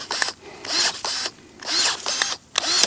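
DeWalt battery-powered pruners cutting through a thick branch about an inch across, working in two bites: a series of short, loud motorized whirring bursts separated by brief pauses, close up with no talking.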